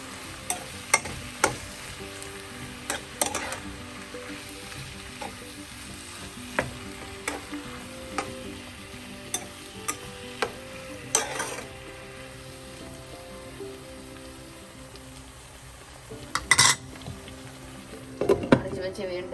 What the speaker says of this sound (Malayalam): അതും കൂടെ ചേർത്ത് നന്നായി മിക്സ് ചെയ്യാം